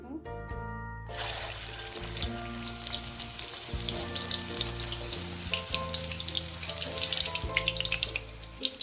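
Chicken kofta frying in hot oil over medium heat, a steady bubbling sizzle that holds throughout at moderate loudness, with background music playing underneath.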